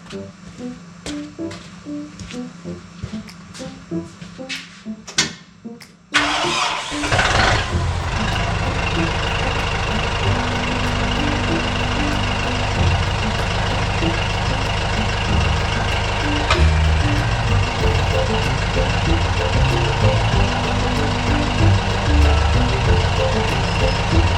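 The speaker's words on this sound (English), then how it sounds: "I just use the loader and I press down and the wheels come off the ground" A loader's diesel engine revs up abruptly and then runs loud and steady while its bucket presses down to lift the machine's wheels off the ground, a deep rumbling drone close by.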